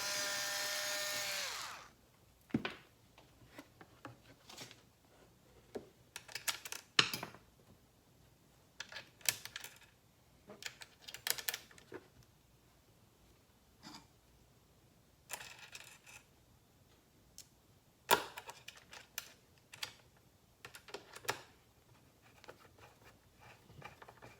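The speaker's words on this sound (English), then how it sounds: "We're going to secure those two bolts where the bumper goes." Bolts being tightened on a Onewheel bumper: a brief drill whir at the start, then scattered metallic clicks, taps and ratcheting handling noises spread across a quiet background.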